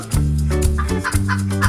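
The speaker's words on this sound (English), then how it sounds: "Chicken," A chicken clucks in a short, loud run of close, choppy calls, with a steady tonal bed underneath that may be backing music.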